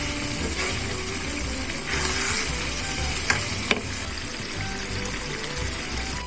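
Onions sizzling steadily in a pan while being cooked down for içli köfte, a dense continuous frying hiss with occasional stirring scrapes and a couple of sharp utensil taps.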